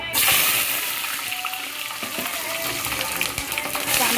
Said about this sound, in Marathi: टोपामध्ये मस्तपैकी आता आपल्याला मिरची कढीपत्ता टाकून घ्यायचा